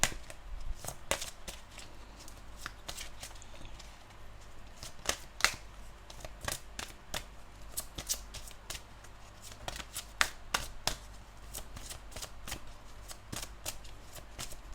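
Tarot cards shuffled and drawn during a reading, a steady stream of crisp riffling snaps and slaps close to the mic, no talking over it.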